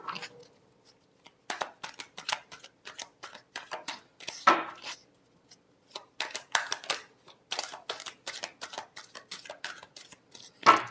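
Tarot cards being shuffled by hand, a run of quick crisp riffles and slaps in irregular bursts with short pauses, close and fairly quiet, with no talking.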